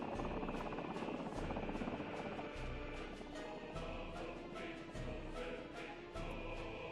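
A hospital helicopter in a city-building game set in a realistic Siberia map gives a steady buzzing rotor drone that holds through the whole stretch, with light rhythmic chop and busy game ambience mixed in.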